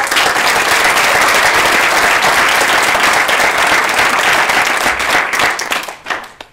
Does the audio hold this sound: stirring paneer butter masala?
no